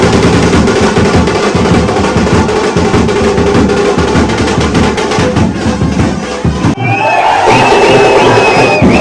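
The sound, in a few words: devotees cheering at a temple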